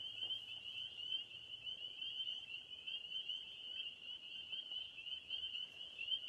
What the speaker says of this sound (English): Peepers are so loud.